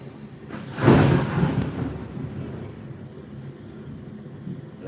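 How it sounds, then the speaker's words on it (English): Real thunder from a storm rumbles outdoors, swelling to a loud low crack near one second and then rolling away into a long, fading growl. "That was real thunder, real world thunder."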